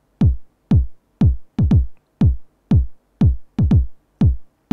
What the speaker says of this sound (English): TR909 kit. And that's the kick that I use, which sounds like this.